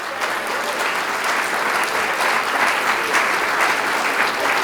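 Dense, even audience applause in a plenary conference hall, many hands clapping continuously at a steady level from start to finish with no talking.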